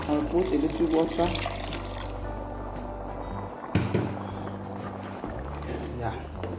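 A little water poured into a cooking pot of rice and tilapia fish, a soft splashing trickle heard under a steady low hum, with a person talking throughout and a brief clatter midway.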